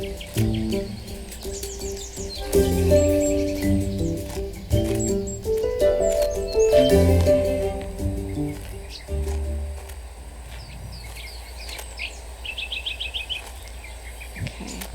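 Bird calls in the video game Botany Manor, with chirps and short tweeting phrases over soft melodic game music, then quieter repeated high chirps near the end.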